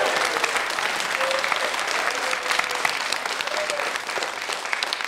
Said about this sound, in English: Please give a round of applause for Jodie Mitchell!